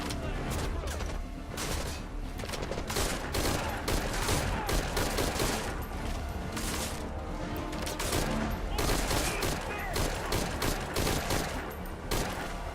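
Heavy gunfire in the video game Metal Gear Solid V: Ground Zeroes, dense bursts of automatic fire and rapid shots packed one after another, loud and continuous throughout with little pause.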